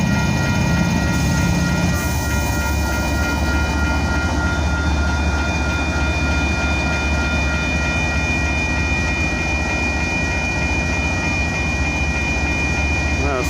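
A train rolls along a track between Sampson and York Street in Houston. A loud, steady rumble of wheels and cars carries on throughout at close range, with faint sustained tones above it.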